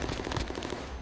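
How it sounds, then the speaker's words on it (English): Rapid bursts of gunfire in the Warzone video game, a dense, loud volley of crackling shots that run without a break through the whole short moment. "they're all shooting at me"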